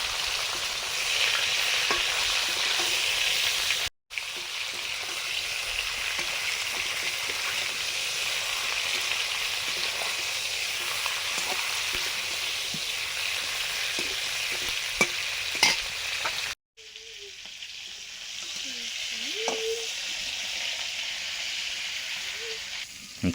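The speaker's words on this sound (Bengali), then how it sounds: "এবার চিংড়িগুলো ভাজছি" Shrimp frying in a pan for a home-cooked Bengali meal, a steady close sizzle and hiss with scraping stirs throughout, briefly cut off twice, with a faint voice in the background.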